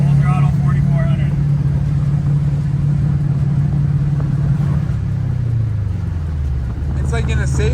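A Subaru Bugeye WRX engine held at full throttle around 4400 rpm, a loud steady droning rumble that sags and wavers near the end as if limited, with brief voices in the background.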